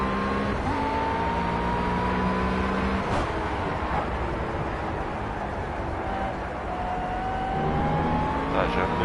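A race car in the video game Project CARS drives with a steady engine drone, its pitch sliding up and down through gear changes, with a voice talking over it throughout.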